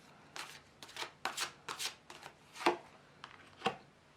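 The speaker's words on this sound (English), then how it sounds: "So let's take a card from the Psychic Tarot." Tarot cards from a Psychic Tarot deck are drawn and handled in a quiet room: a series of soft papery swishes and flicks, several in a row, followed by two sharper card snaps near the end, with no voices.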